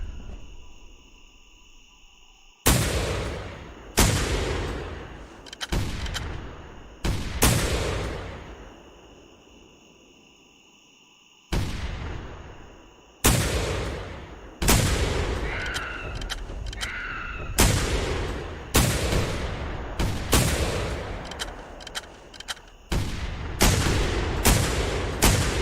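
Loud gunshots fire in theHunter: Primal during a dinosaur hunt, a dozen or so sharp single reports spread across the clip, each trailing into a long echoing decay over steady insect-like chirping, with no talking.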